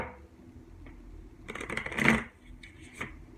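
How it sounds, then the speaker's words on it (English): Tarot cards are shuffled close by in a couple of quick riffling bursts, soft papery flutters rising in the middle and fading, with a faint tap near the end. "Let's get 2 good shuffles."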